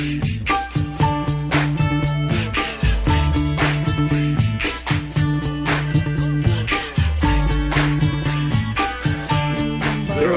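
A hit song playing as a recording, with a steady punchy beat, a repeating bass line and bright percussion, loud and continuous with no talk over it.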